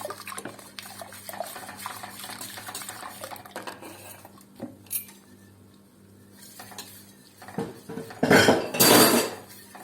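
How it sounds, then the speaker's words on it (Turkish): Batter of flour and a glass of sugar being stirred in a metal pot for Turkish Saray Sarma and Sultan Lokumu dessert, with steady scraping and clinking of a spoon against the pan and louder clattering near the end, no talk. "Bir su bardağı unla beraber şu anda karıştırıyorum."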